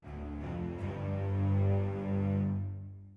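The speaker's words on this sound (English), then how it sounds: "an orchestral strings bass like this." Orchestral strings bass layer for a hip-hop beat: a deep, sustained bowed bass tone with rich low harmonics, swelling slightly and fading at the end, alone and fairly soft.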